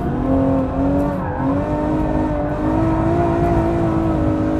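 A Ferrari F12 engine pulls hard through a right-hand corner, a loud, steady, high-pitched roar heard from inside the car with the pitch dipping and then climbing again as it accelerates.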